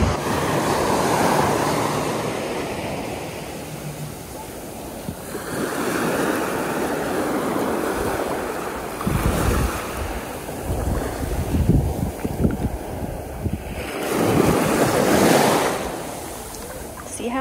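Waves washing onto a deserted resort beach at Playa Blanca, Panama, with murky water: a steady broadband roar that swells into louder surges, mixed with gusty wind buffeting the microphone.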